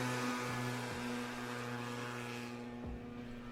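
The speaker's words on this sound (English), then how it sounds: "I think it was just a bike moving in a highway sound effect." A slowed-down sound effect of a motorcycle riding on a highway: a steady, low droning engine hum with sustained tones, fairly faint and gradually thinning out.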